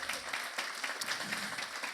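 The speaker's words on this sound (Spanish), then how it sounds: "Un aplauso, gloria a Dios." A church congregation claps at a Spanish-language service, a steady dense applause from a crowd that fills the short moment evenly without pauses.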